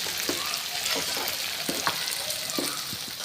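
Ginger garlic paste frying in a pan, a steady sizzle with occasional stirring scrapes and soft pops, close and fairly loud.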